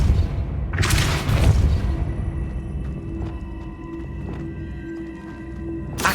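Depulso force-push spell cast in Hogwarts Legacy, a loud booming burst near the start followed by a ringing, sustained magical tone and scattered low thuds that fade out.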